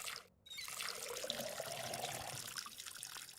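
A plant being watered in the game Schedule 1, heard as a faint, steady trickle of pouring water lasting a few seconds after a brief pause.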